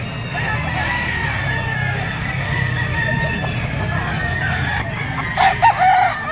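A white-legged Kelso gamecock stag crows once near the end, a short loud call standing out over a steady hum of farmyard background noise.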